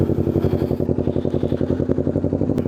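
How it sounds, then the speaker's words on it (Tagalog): A Kawasaki Ninja 650 motorcycle engine warms up at close range, its idle a loud, steady, evenly pulsing throb with a faint clatter and no talking. "At painitin na natin yung motor."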